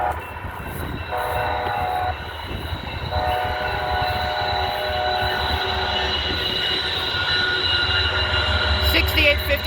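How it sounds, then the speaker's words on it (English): An autorack freight train rolls past on the Fort Scott subdivision rails in Merriam, Kansas, a steady, loud rumble of wheels and cars throughout with tonal squeal and a brief horn-like tone near the end. "I did see this autorack train on the Fort Scott sub in Merriam on March 2nd"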